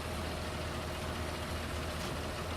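A large tractor idles steadily in Farming Simulator 19, a low, even engine drone with a knocking rumble underneath that holds constant and close throughout, with no speech over it.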